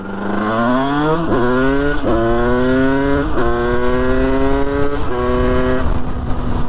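A moped engine with an 86cc aluminium top end, which is overheating, revs loudly and close by. It climbs in pitch several times, dropping back briefly between each rev.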